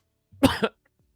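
A single short cough, close and sharp, in a double burst followed by silence.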